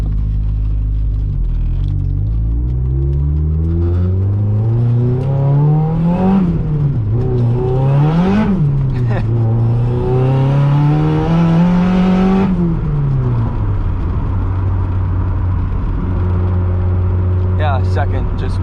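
A turbocharged 1.6-liter Mazda Miata engine revs up and down through the gears with whirring turbo boost and sharp blow-off valve releases, heard loud from inside the car on a drive.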